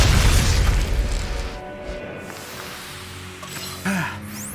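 A grenade blast in the action RPG Tales of Arise: one loud, deep boom at the start that rolls off into a long rumbling tail, with faint battle effects afterward.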